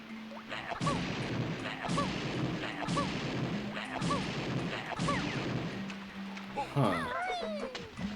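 In the Banjo-Tooie video game, eggs are fired at a wall, making a string of repeated popping shots at a steady rhythm alongside cartoon character voices and game sound effects, with a person talking throughout.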